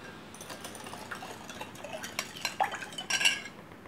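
Spoon stirring coconut milk with sugar and salt in a metal bowl, light clinks and scrapes that grow busier and louder toward the end; no talking.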